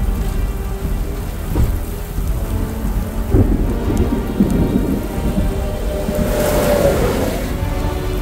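A slow-moving thunderstorm with a wall cloud and ground lightning over a highway: a continuous loud downpour drums on surfaces while deep thunder rolls and rumbles through it, with no voices.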